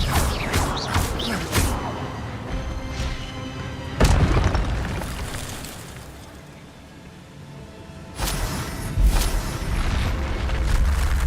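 Incendio fire spell blasts in Hogwarts Legacy, heavy booming impacts landing at about four-second intervals, each followed by a fading rumble with game sounds beneath.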